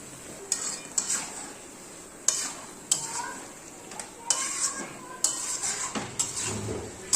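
Chicken pieces being stirred in a pot while cooking with kasuri methi, a soft sizzle under repeated metallic scrapes and clinks of the spoon against the pot at a loose rhythm, close by.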